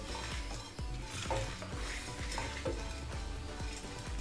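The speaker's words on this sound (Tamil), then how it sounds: "இந்தளவுக்கு வறுபட்ட பிறகு நம்ம எடுத்து வச்சுருக்க அந்த கருவேப்பிலையும் ரெண்டு கொத்து போட்டுருங்க." Two sprigs of curry leaves crackle and sizzle in hot oil for temple-style puliyodharai, a steady loud fry under repeated stirring taps and scrapes of a spoon in the pan, with no talking.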